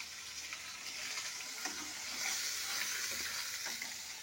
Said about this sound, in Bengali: আর বাকি মাছগুলি ভেজে ফেলছি।